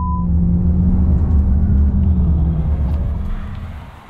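A 2019 Toyota Corolla Hatchback drives along a straight road, its steady low engine and tire rumble heard from inside the cabin, holding level before easing off and fading slightly at the end.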